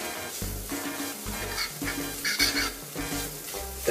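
Pan-fried ramen noodles and beef being stirred in a hot pan, a busy sizzle broken by repeated scraping, clattering strokes of the utensil at close range, with no voices.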